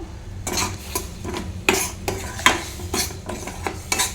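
A milk mixture for a sweet is stirred in a pot, with a spoon scraping and knocking against the metal in a steady rhythm of strokes, close and clear with a low background hum.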